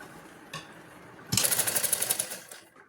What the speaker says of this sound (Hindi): अब हम इसमें नेफा मोड़ते हुए राउंड में सिलाई लगा लेंगे।